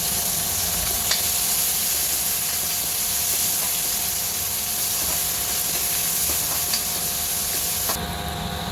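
Onions sizzle and fry steadily in hot oil with chili and five-spice seeds, a loud continuous crackling hiss with a few soft stirring scrapes, with no talk.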